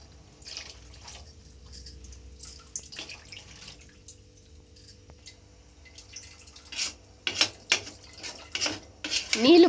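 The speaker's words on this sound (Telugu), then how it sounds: "3 గ్లాసులు నీళ్లు పోసుకోవాలండి." Three glasses of water are poured into a pan of tamarind egg curry, starting as quiet trickling and building into louder, closer splashing bursts toward the end.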